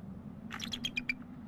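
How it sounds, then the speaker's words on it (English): A female eagle on a snow-covered nest calls to her mate in a quick run of five or six high, sharp chirping screams, faint against a low background hum. "she's screaming right now at the male, going, come and relieve me, come and take my place"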